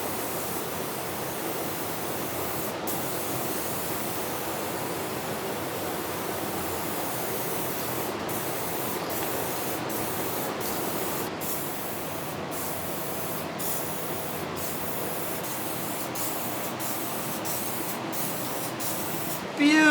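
Steady, continuous spray of seal coat onto a Nissan 240SX car body, a loud broadband hiss holding for the whole stretch with brief sharp clicks scattered through it.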